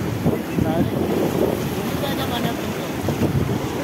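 Sea waves roll in at Baga Beach, Goa, in a loud, continuous surf wash with wind buffeting the microphone and faint voices in the background.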